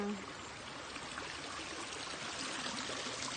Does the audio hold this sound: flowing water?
yes